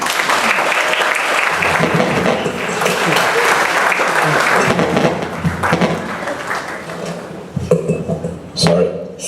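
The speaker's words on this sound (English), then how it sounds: "Feel free to applaud any way you wish and whatever you wish." At a 2024 graduation ceremony, the audience breaks into loud, sustained applause and cheering that fades near the end, with a few voices audible as the clapping trails off.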